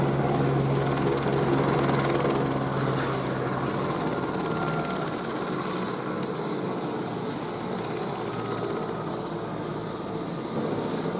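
A helicopter landing nearby during a delivery, its rotor and engine giving a loud, continuous, throbbing roar that stays steady throughout and fades slightly toward the end.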